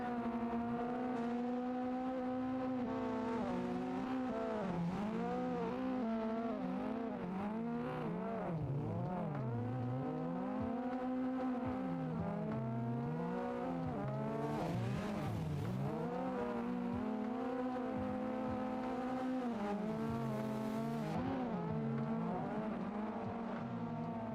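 Assetto Corsa race car drifting in VR, its engine droning loud and steady with rising and falling revs and tire squeal throughout, no talking.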